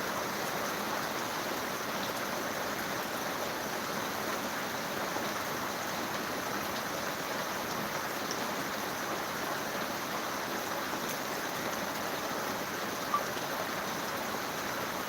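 Heavy out-of-season rain falls on the village of Dumlav in Pardi taluka, South Gujarat, a dense, even roar of downpour that holds steady throughout with no voices.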